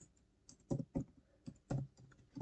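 Typing on a computer keyboard while coding a web app, several irregular clusters of close, crisp key clicks with short pauses between bursts, fairly quiet and with no voice.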